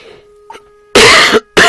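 Two harsh, loud coughs burst out close by from a person with mild pneumonia, separated by a short pause, with a faint throat sound just before.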